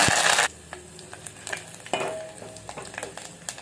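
Curry leaves, dried red chillies, crushed garlic, cumin and tempering seeds hit hot oil for a tadka, starting as a loud burst of sizzle that drops to a softer crackle with scattered pops and spoon clinks.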